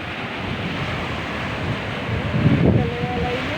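Strong sea waves surge and break on a Thai beach, a steady broadband roar of surf with wind buffeting the microphone, swelling louder midway as a bigger wave crashes close by.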